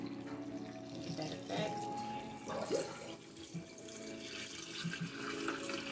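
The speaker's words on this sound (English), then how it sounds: "So we're gonna go ahead and put some water in here." Tap water runs steadily into a crock pot, a soft continuous rushing and splashing at low level, with faint kitchen clatter.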